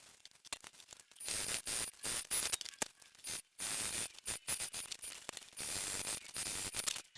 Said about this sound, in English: let's put these 2 pieces together and sew with that seam allowance all along this bottom